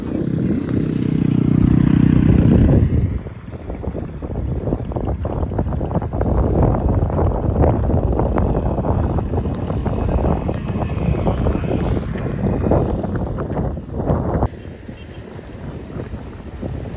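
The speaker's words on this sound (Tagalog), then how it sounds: "Lakas ang hangin." Strong gusting wind at a beach in Cavite City buffets the microphone with heavy low roar, easing after a few seconds into steady blustery noise with faint clatter.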